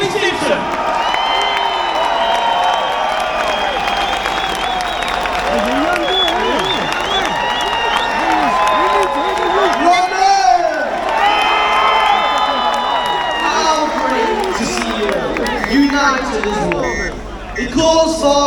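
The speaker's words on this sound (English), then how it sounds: "give this young man a massive, massive cheer and round of applause" A large outdoor crowd at a street march in Whitehall cheers, whoops and applauds steadily and loudly throughout, with shouting voices and babble mixed into the continuous roar.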